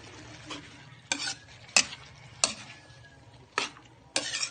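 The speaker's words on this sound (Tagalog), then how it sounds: "tapos na natin linagay yung sibuyas na puti at saka sili espada" White onion and long green chili sautéing in a pan for sisig, a soft continuous sizzle broken by six sharp, regular stirring scrapes of a utensil against the pan, close and with no talk.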